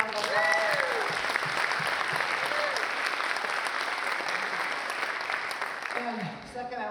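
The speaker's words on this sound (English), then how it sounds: "Can we give them another round of applause?" An audience at a city's State of the City address applauds steadily, a full sustained clapping that thins out near the end while a voice and some cheers sound through it.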